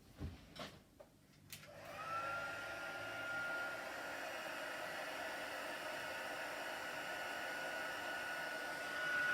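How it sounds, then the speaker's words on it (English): A heat gun roars steadily as it melts embossing powder on a stamped card, a constant close whirring blow that starts after a couple of soft clicks and handling noises and runs on evenly without talk. "So I'm just going to heat this. My heat gun is just across the room."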